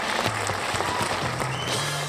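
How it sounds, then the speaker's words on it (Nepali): A studio audience at a comedy competition show applauds for the mentors, a dense, steady wash of clapping with faint musical tones running underneath and no speech. "मेन्टरहरूको लागि एकचोटि ताली बजाइदिनु।"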